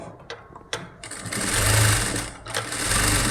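Close-up sewing machine stitching rolled piping in short bursts, its rapid mechanical whirr starting, stopping and speeding up again, with small clicks between runs.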